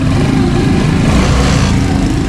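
A 2024 Suzuki Smash 115 motor scooter exhaust idles close up, a steady low sputtering rumble that holds even throughout.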